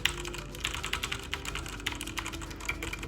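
Fingers type steadily on a Digital Alliance Meca 6 mechanical keyboard with Otemu red switches, giving a close, continuous patter of soft, quick keystrokes with no talking.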